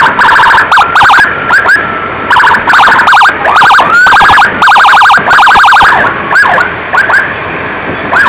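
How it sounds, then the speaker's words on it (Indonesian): An ambulance blares a loud "devil" siren close by, a harsh sequence of rapid electronic yelps and warbles broken by short gaps. "pakai sirine setan guys"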